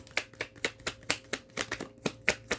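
Tarot cards being shuffled and drawn one by one, a run of quick crisp flicks and slaps in a steady rhythm, close and fairly quiet with no talking.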